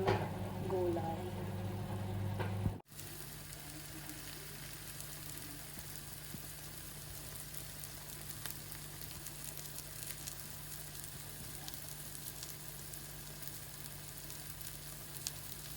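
Vegetable omelette of egg and vegetables sizzling steadily in a pan, a brief louder burst and cut at the start before an even, continuous frying hiss with small pops.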